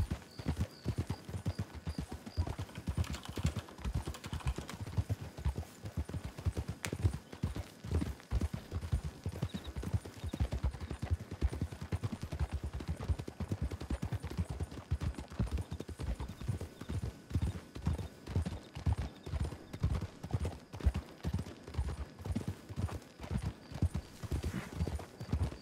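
Horse hooves clip-clop in a video game, a steady rhythmic trot of close, distinct hoofbeats running continuously with no voices over them.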